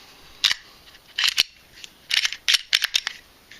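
A Glock 43 9mm pistol being handled for a chamber check gives sharp metallic clacks and clicks of the slide, close and crisp, in several quick irregular bursts with short pauses between.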